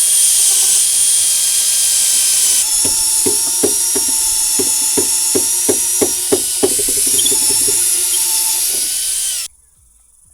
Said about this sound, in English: I'm able to use my massive as M16 bit to go all the way through